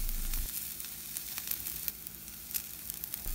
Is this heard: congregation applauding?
no